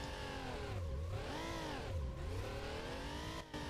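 A Porsche engine in the Need For Speed Porsche Unleashed racing game revs and sweeps up and down through repeated handbrake 360 turns, a loud continuous synthetic whine with rising and falling pitch and no speech.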